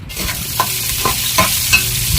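Carrots, pork and potatoes sizzle and crackle in hot oil in a cooking pot for an afritada, with a steady frying hiss broken by several louder stirring scrapes at a close distance.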